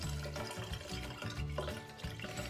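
Water runs and splashes in a container while sticky rice is washed for a Thai mango dessert, a close, continuous trickle with small swishes.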